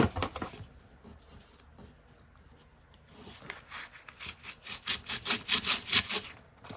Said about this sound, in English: I'm just taking a nail file because I don't have a letter opener. And I'm just kind of going through